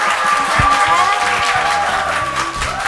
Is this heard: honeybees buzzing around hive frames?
no